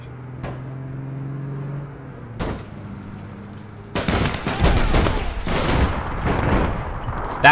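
Gunfire in the online shooter APB Reloaded: a quiet lull with a couple of isolated reports, then from the midpoint a loud, dense volley of repeated shots and impacts that carries through to the end.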